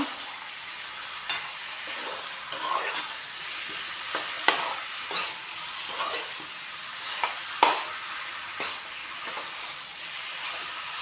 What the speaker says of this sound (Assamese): এয়া চাওক মাংসখিনি অলপমান ভাজি ল'লোঁ